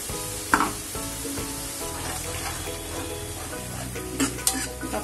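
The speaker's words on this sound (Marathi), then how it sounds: "आपण हे वाटलेलं घालू, आलं लसूण आणि टोमॅटो" Ground ginger, garlic and tomato paste dropped into a hot oiled pan, crackling and sizzling steadily with a few stirring clatters and soft scraping, close by, no talking.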